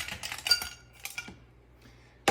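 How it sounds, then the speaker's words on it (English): Ice cubes drop into a cocktail glass for an apple old fashioned with bourbon, several sharp clinks and clatters in quick succession, then a pause and one last clink, close and fairly quiet. "So now let's add some ice in there."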